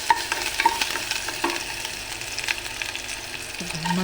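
Onion frying in hot coconut oil in a pan, a bright close sizzle with a few spatula scrapes and stirs at the start, growing slightly louder toward the end, with no talk.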